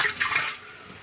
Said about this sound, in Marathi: चला आता आपण डेरा स्वच्छ करून घेऊ अगोदर पाण्याने